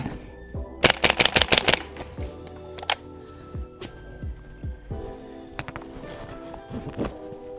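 A VFC HK33 gas blowback airsoft rifle firing at targets about 6 meters away, with a sharp rapid burst of several shots followed by scattered single cracks and metallic clatter, close and loud.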